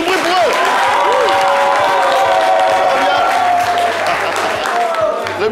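A studio audience at a French live show applauds and cheers, a loud dense wash of clapping and crowd noise lasting throughout, with a voice briefly heard over it.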